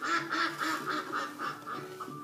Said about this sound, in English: quacked the duck